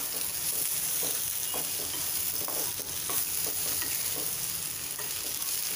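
Black masala spices being stirred into paneer bhurji in a hot pan over medium heat, with a steady sizzle and repeated scraping strokes of a spoon throughout.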